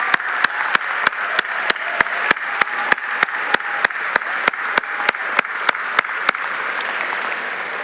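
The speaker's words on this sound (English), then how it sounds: "show your parents, siblings, and friends some love with a round of applause of their own" Graduation ceremony audience applauding the families, a dense, steady crowd clapping that continues throughout, loud and close, with no one speaking over it.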